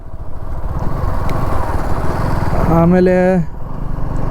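A Suzuki V-Strom 250 SX motorcycle engine drones under steady riding, then gives a brief, sharp rev near the end, with someone talking over the ride noise.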